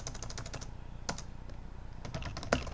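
Someone types on a computer keyboard, a quick run of light close key clicks, a pause, then scattered taps and a firmer keystroke, over a faint low background hum.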